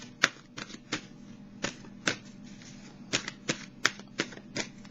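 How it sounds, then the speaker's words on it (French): Oracle cards being shuffled by hand during a tarot reading, giving a run of crisp, close riffling snaps and soft slides at an irregular rhythm, with no talking. "Je vais piger une carte pour déposer sur celle"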